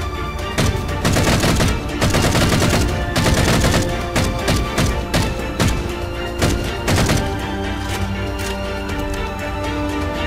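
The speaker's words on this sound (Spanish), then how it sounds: "Ok, eso fue el rifle de asalto." Loud assault rifle fire from the video game Halo CE, on a fan-made Halo 4 style map: several rapid bursts of automatic shots with short gaps between them, then fading to ringing and ambient tones, with no speech.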